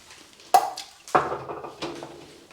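Glass jars are set down into a water-filled canning kettle, three distinct clinking knocks at irregular intervals, each followed by a soft watery ring, close up.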